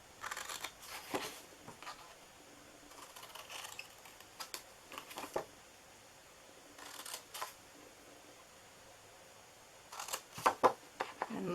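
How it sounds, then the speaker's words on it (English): Scissors cut into a paper gift box, giving a handful of short, crisp snips in scattered pairs and clusters over a quiet background. "And then you are going to just cut into here."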